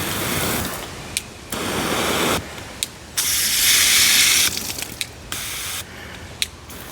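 Water hissing from the spray nozzle of a wall-mounted retractable 5/8-inch garden hose reel in several bursts that stop and restart, with the spray pattern changing between bursts and small clicks in between.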